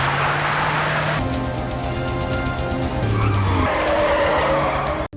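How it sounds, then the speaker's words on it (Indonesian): Car racing too fast and skidding out of control before rolling over in a film chase scene: a loud, sustained tire screech with engine roar, ending abruptly. "karena mobil Angela yang melaju terlalu kencang, akhirnya harus kehilangan keseimbangan dan mengakibatkan mobilnya terguling"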